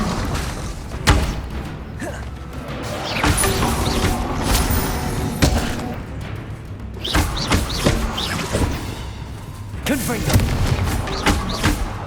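Spell blasts from a Confringo blasting curse in Hogwarts Legacy: repeated loud booming explosions and thuds in combat, irregularly spaced across the stretch, with a voice speaking between them.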